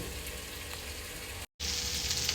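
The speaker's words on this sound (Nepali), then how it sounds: "हल्का भुटिएपछि गोलभेडा पनि यसरी पनि राखेर भुट्दिने" Chicken gizzards with tomatoes sizzle steadily in a pan, a constant close hiss of frying with a brief cut to silence partway through, no talking.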